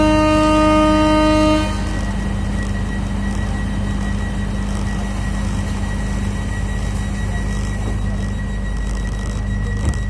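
A Yogyakarta International Airport rail link train sounds a loud, clear horn for about two seconds, then a steady rumbling roll of the rail cars carries on close by.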